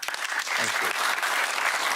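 Audience of Conservative Party members at a Tory leadership event applauding, a dense, steady wash of clapping with a voice briefly audible beneath it.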